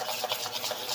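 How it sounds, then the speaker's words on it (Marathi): A thick soaked gram flour (besan) batter being stirred briskly, with a quick run of close, wet, rhythmic squelching strokes and no voices. "बेसन एकदा असं मिक्स करून घ्यायचं चांगलं"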